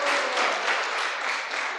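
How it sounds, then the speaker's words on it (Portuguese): A church congregation claps through a short, dense burst of applause during a worship service, steady and close throughout. "Pode dar um aplauso a ele."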